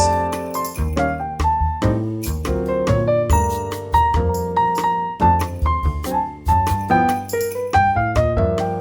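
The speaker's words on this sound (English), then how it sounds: "we chose a Latin style and wrote a simple piano arrangement" Bright piano chords in a syncopated Latin rhythm with a bouncing bass line, played steadily and clearly throughout.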